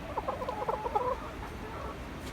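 A chicken gives a quick run of soft clucks, close by and moderately loud over a low background hiss, then falls quiet.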